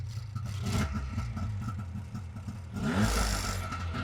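A tiny 18 HP sports car's engine running with a clattery, uneven note that surges, sags and falls away as it stalls, heard from close by with no talking.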